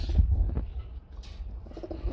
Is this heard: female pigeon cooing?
yes